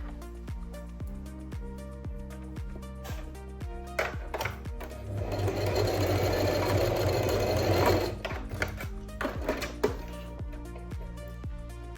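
A sewing machine secures elastic on a backless summer dress, its needle ticking in a steady rapid rhythm that swells into a denser whirring run midway before easing back to slower stitches, close and clear.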